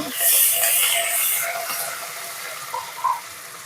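Mustard seeds, chopped onion and curry leaves fry in hot oil for a dal tempering, a loud, bright sizzling hiss that swells early, then gradually eases, with a brief crackle near the end.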